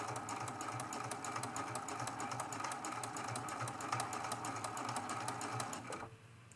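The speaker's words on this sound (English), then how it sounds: "We're going to be stitching right along the edge" A sewing machine runs steadily, stitching along a curved edge at a stitch length of about 2.4 on a cathedral window quilted ornament. The fast, even whirr goes on alone for several seconds, then stops abruptly near the end.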